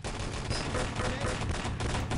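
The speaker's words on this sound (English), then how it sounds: "Nice Luger play from Woods." Gunfire in Enemy Territory during a 3-on-3 LAN tournament match, including Luger pistol shots, a dense continuous fusillade of overlapping shots filling the whole stretch at close, loud level.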